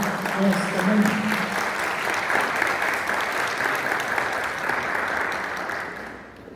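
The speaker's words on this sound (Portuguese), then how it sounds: "uma salva de palmas à nossa convidada esta manhã." Audience applauding a guest at a morning event on disability inclusion law, sustained clapping with a voice briefly over the start, fading away at the end.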